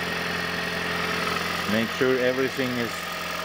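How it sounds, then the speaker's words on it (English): A 2011 third-generation Toyota Prius engine starts and idles steadily after an oil and filter change, a low running hum under a man's speech. "then start your engine."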